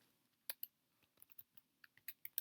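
Quiet, close keystrokes on a computer keyboard, scattered irregular clicks coming in short bursts, some taps sharper than others, with no voices.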